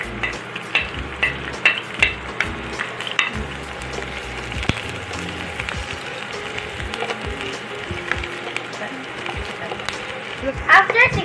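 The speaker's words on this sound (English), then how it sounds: "Add the oil! Next, saute the onion." Onion sautéing in hot oil in a pan, a steady close sizzle with occasional stirring clicks and scrapes of a utensil.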